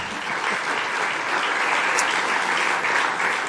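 Audience at the Bled Strategic Forum 2024 applauds a prime minister, a steady, full round of clapping from a large hall lasting a few seconds.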